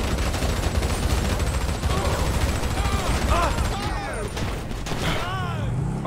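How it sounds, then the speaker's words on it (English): Gunfire from other players in Grand Theft Auto V, rapid bursts of shots in a dense continuous barrage with booms and mechanical clatter, mixed with game voices and ongoing talk. "Oh, one of them is shooting at me."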